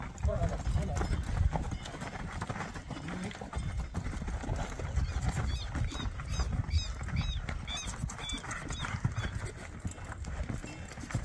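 Hooves of three horses used for rural ranch work clip-clop in an irregular rhythm on the ground at moderate distance, with someone talking over them throughout.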